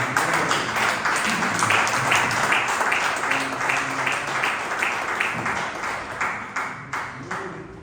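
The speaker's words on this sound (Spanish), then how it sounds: "Dad un fuerte aplauso al grupo de alabanza" Church congregation applauding the worship group, a brisk rhythmic clapping in time with a steady beat, moderately loud and sustained, with a few voices underneath.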